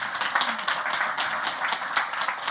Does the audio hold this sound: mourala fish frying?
no